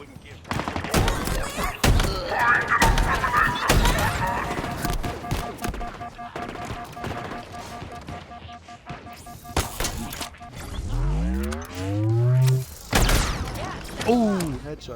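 Rapid bursts and single cracks of gunfire from Halo Infinite, loud and close, repeated in clusters with mechanical clanks and a sweeping whoosh near the end, with someone talking over the shooting.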